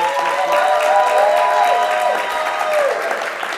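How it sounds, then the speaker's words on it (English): A conference audience claps in sustained applause, a dense close wash of hands, while a voice carries on faintly over it and the clapping tapers toward the end. "I want you to give me a big round of applause"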